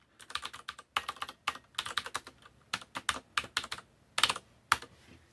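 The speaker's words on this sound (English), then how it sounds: "she'll sit down and type Control-Alt-F2 to go to TTY2" Quick bursts of typing on a computer keyboard at a Linux workstation, a run of close, crisp key clicks in uneven clusters with short pauses between them, quiet and alone.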